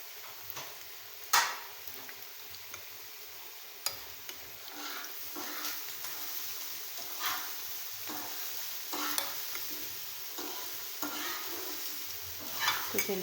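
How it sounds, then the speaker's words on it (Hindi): Chicken pieces for chicken Manchurian fry in a frying pan with a steady, close hissing sizzle, broken by occasional clicks and scrapes of a utensil. "तो इसी तरह हम अपने तमाम चिकन को फ्राई पैन में डाल के अच्छे से फ्राई कर लेते हैं।"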